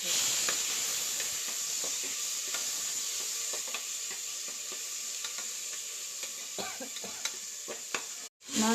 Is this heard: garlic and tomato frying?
yes